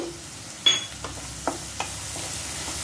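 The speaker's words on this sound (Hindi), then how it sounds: "अब मैं इसमें हरी मिर्च डाल रही हूँ।" Green chilies stirred into onions frying in a pan, a soft steady sizzle under a few light scrapes and clinks of a spoon against the pan, close and fairly quiet, no voices.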